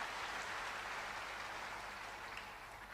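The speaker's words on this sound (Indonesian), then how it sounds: "Ayo dong tepuk tangan bisa lebih kompak lagi dong buat Tuhan kita." A church congregation at an Indonesian sermon claps together, a dense hiss of many hands that is fairly faint and steady for a few seconds and fades slightly toward the end.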